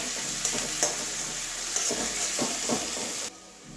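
Chopped ginger, added with chopped garlic for a Bengali chicken posto curry, fries in a pan with a constant bright sizzle and a few stirring knocks, close, before the sizzle drops off near the end.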